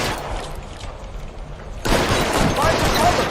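Gunfire in LA Noire: a quieter stretch of distant shots gives way to a loud, dense fusillade of close rapid shots in the second half, with a voice shouting over it.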